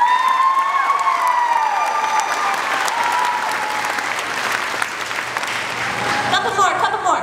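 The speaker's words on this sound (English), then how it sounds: "So they deserve a big round of applause too." Loud, sustained clapping from a dance recital audience, with scattered cheers and high children's shouts, swelling again near the end as voices rise.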